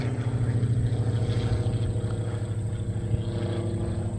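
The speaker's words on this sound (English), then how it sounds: "Can hear the engines roaring on that thing." A loud, steady engine drone with a buzzing propeller tone from a model Focke-Wulf Fw 190A warbird airplane in flight, holding constant and close throughout, with no voices.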